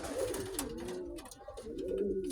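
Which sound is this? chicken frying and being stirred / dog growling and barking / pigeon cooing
pigeon cooing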